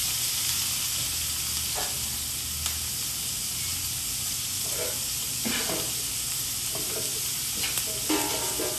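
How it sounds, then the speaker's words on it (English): Onion frying in oil in a skillet, a steady close sizzle running throughout with occasional scrapes and stirring clicks, alone with no talk. "in the same skillet, add a little bit more oil. Then we're gonna add our onion."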